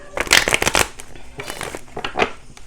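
Rapid riffling bursts of tarot cards being shuffled, several quick flutters in a row, close and crisp with a voice faintly between them.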